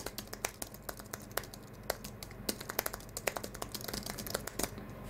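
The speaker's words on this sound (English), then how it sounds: "Here we have the Bluetooth Apple keyboard with no numeric keypad" Light, quick keystrokes on a flat Apple Bluetooth keyboard without a numeric keypad, soft irregular taps close up over a faint steady background hum, with no talking.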